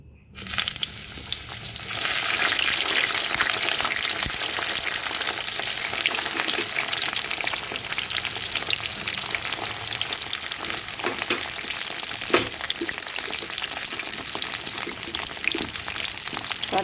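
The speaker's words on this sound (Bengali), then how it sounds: "এরপরে এই বেগুনটাকে দেবো ভাজতে" Eggplant frying in hot oil for a Bengali shukto, a loud, steady broadband sizzle that swells after a quiet start and holds continuously, with occasional small crackles and a utensil tap.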